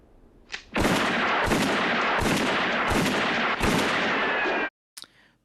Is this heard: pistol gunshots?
yes